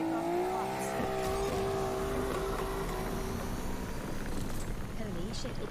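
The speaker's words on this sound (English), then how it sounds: "it's Razor's BMW M3 GT RS car from Need for Speed car" A BMW M3 GT RS races in the video game Need for Speed Unbound, its engine revving with a rising whine and tire noise, loud and continuous under someone talking.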